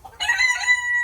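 Red Pekin bantam rooster crowing once up close, a short, bright, strained call that rises and holds a steady pitch to the end.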